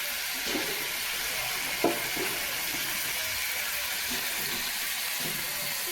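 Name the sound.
water poured into sizzling spice mix in pan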